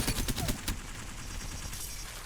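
An L-STAR energy gun in Apex Legends fires a rapid burst of shots in quick succession, loud and close, then breaks off into a quieter hum.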